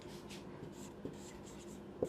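A pen writes a sentence by hand on paper, giving faint, close scratchy strokes in a quiet room, with a small tap near the end.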